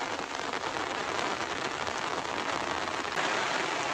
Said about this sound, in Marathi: मग कसा पाऊस आला आता